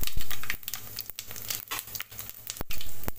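Cumin and mustard seeds sizzle and crackle in hot oil while making a cucumber dal curry, with a steady close frying hiss broken by sharp pops and brief stirring noises, and no voices.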